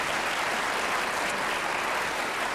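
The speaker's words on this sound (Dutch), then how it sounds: "krijg je nog een extra applaus van de mensen" A studio audience claps steadily and evenly, a dense sustained applause with no voices over it.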